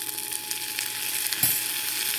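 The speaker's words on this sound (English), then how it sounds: "when we start cooking the vegetable, we put the gingers in it, and also the white onion, a teaspoon of garlic" Ginger, white onion and garlic sizzling as they are stir-fried in a pan, a steady frying hiss with a brief stirring scrape partway through.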